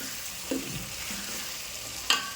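Lengthwise-sliced tomatoes fry in a pan, a faint, even sizzle close by, broken by a soft knock early on and a sharp metallic clink near the end.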